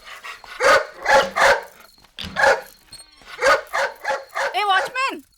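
A pet dog named Nimi barks several times up close, with a mix of gruff woofs and higher yips that rise into whimpering at the end.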